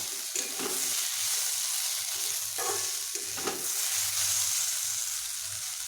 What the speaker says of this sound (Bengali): সবগুলোকে একসঙ্গে বেশ ভালোভাবে ভাজছি